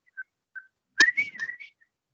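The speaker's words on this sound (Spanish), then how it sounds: "¿Cuál es el silbido" A person whistles during an online class: two short faint chirps, then a louder rising-and-falling whistled phrase about a second long, alone with no talk.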